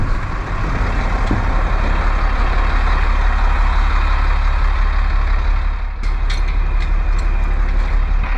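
A truck towing a gravel screen strains in soft desert sand, its engine droning in a steady, loud rumble, with a brief mechanical clank or hiss near the end.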